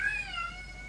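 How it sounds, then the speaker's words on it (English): A cat meows insistently while trying to get into a room: one drawn-out, fairly close cry that fades slightly toward its end, with no talking. "That's my cat, he's trying to get in."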